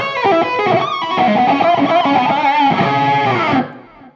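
Distorted electric guitar plays a fast pentatonic lead lick from a rock solo, shifting between scale boxes with slides, loud and continuous for about three and a half seconds before ringing off.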